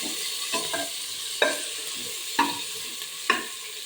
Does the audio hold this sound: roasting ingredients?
yes